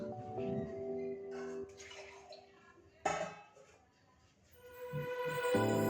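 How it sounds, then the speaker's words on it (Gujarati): Water splashes into a pot of bottle gourd and chana dal curry with some clinking of metal cookware, brief pouring bursts over a quiet kitchen background. "થોડું પાણી એડ કરીશું."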